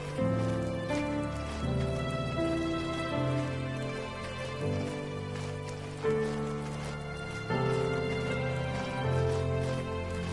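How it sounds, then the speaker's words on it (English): Rain in the video game The First Tree falls steadily across the whole stretch, a soft continuous patter blended with calm, sustained game music that swells and shifts throughout. "Oh, it's raining again."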